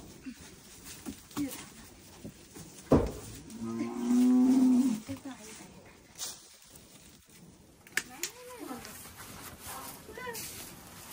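A cow on a Nepali farm gives a single drawn-out moo in the middle, with people talking intermittently before and after and some footsteps and rustling around it.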